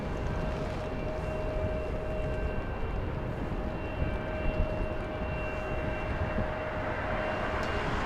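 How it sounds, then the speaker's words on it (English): A Boeing 747 jet of Cargo Air climbs out on a south side departure from Los Angeles International Airport, a steady broad engine roar with faint tonal whine, continuous and moderately distant. "the Connie 747, that's the call sign for Caleta Air. Connie is flying over LAX, indicating a south side departure"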